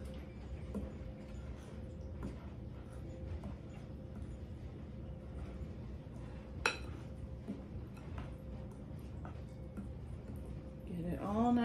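Spoon stirring carrot nut bread batter in a mixing bowl, soft repeated scraping with occasional light clinks against the bowl, fairly quiet and steady, ending with a slightly louder clatter.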